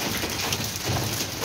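Hail pelting down outdoors as the weather clears, a steady dense patter of icy stones striking surfaces close by, continuous and fairly loud with no talking.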